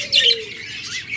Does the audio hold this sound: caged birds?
yes